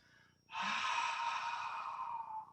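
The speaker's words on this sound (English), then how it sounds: "So this is breathing out" A long, airy exhale during a QiGong exercise starts abruptly after a soft inhale and streams steadily for about two seconds, close and clear with no talking.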